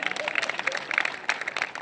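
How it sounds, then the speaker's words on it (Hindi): An audience at a Hindi comic poetry recital claps in a steady burst that carries through the whole short stretch at moderate, even loudness. "बजा दो एक बार ताली"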